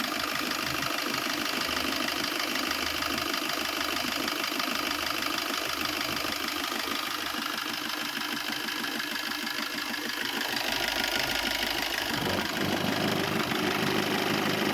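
A steady diesel engine of a 2019 Maruti Swift VDi car idles close by for the whole stretch, a continuous rattling rumble with a slight knocking texture and no voices.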